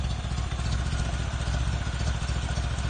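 Engine of a 1928 Ford Model A Roadster pickup, a barn find, idling steadily with a loud, even low rumble and mechanical clatter, close by and alone.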